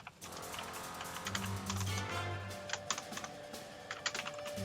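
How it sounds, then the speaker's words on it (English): Rapid, irregular clicking of a computer keyboard during an Age of Empires Online tournament cast, fairly quiet and close, with no talking over it. "God, my typing is hopeless today."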